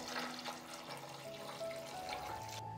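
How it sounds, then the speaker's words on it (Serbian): Hot water is poured into a pot around hot glass jars, a quiet continuous trickling and splashing with faint ringing tones, cutting off just before the end. "Sipam vruću vodu, jer su tegle vruće."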